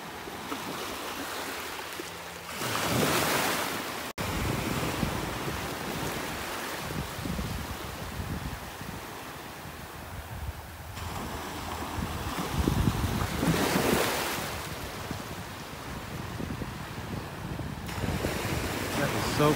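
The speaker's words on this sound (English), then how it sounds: "just standing here listening to the waves." Gulf ocean waves break on a small sandbar off a North Naples, Florida beach, a continuous close wash of surf with periodic louder crashes and heavy wind buffeting the microphone.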